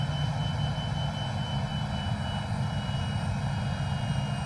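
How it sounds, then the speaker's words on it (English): Steady, loud jet roar of a Fokker F28 on takeoff from Birmingham in Microsoft Flight Simulator, a continuous broadband engine rumble with a whining tonal layer, unchanging throughout with no voices. "Roaring out of Birmingham then, keeping with the sounds."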